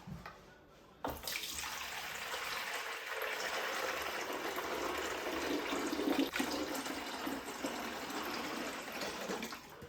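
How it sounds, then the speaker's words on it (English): Water poured from a container into an appliance's reservoir at home, a steady splashing fill that starts abruptly after a short quiet moment and runs on continuously, close and moderately soft. "inside this reservoir there is a max line, so you just don't want to exceed that line and you want to pour your water directly into it"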